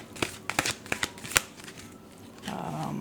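Tarot cards are shuffled in a series of close, crisp riffling bursts and flicks, followed by a softer sliding rustle of the deck near the end, with no talking.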